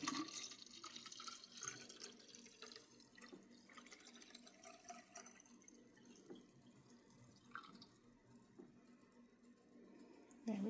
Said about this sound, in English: Now I'm going to add water to this water bottle and shake it up